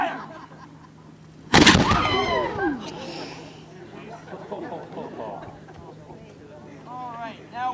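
A cannon fires once in a Fort Niagara demonstration, a single loud boom followed by a long rolling echo. Voices and background murmur can be heard around it.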